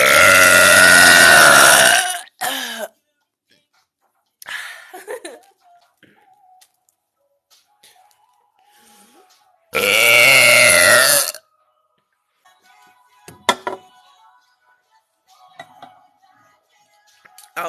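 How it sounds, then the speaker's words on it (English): Two long, loud, throaty burps stand out, each about one to two seconds, separated by quiet gaps with a few small shorter sounds and faint noises. "One more burp, I got you."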